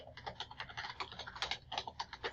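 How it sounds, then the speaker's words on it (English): Rapid clicking keystrokes on a computer keyboard as a password is typed into a login portal, a quick irregular run of close, crisp taps with no talking. "or I'm typing too fast."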